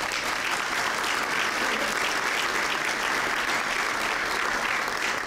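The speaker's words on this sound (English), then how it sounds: "Give him a round of applause." Dense applause from a large audience at an MLK interfaith prayer event, steady and sustained throughout, loud clapping filling the room with no pauses.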